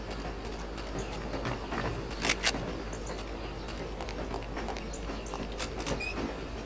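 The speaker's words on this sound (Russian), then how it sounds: "Звук был, что не собирался вагон останавливаться." Railway wagon rolling and braking in the video game No One Lives Forever, a steady low rumble with sharp metallic clanks and squeals near the end as it comes to a stop.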